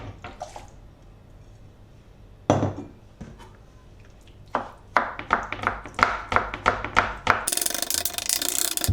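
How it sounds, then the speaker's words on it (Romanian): Knife chopping eggplant on a board for an eggplant and onion salad: a few scattered knocks, then a run of quick, crisp chops in a steady rhythm, close and fairly loud, ending in a burst of scraping noise. "Apoi tocăm vinetele."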